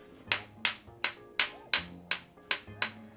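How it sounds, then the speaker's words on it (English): A geological hammer strikes a rock eight times in a steady, evenly spaced rhythm, each blow a sharp, close, ringing clink that fades quickly before the next. "We can break open the rock and get a fresh surface."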